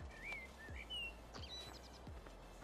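Built-in ambient birdsong from the Farming Simulator 15 video game: several thin, whistling chirps and short trills spaced across a few seconds over a soft, quiet background.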